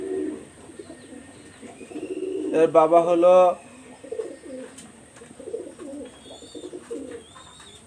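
Pakistani high flyer Kamagar pigeons coo in a short, louder burst midway, with someone talking steadily before and after.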